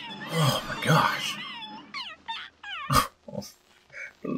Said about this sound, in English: The little puppy.